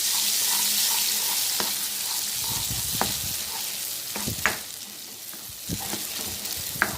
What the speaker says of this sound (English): add the chutney onto it and mix well